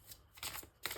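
Tarot cards being shuffled by hand, a quiet, brief riffling with two soft bursts of papery flutter.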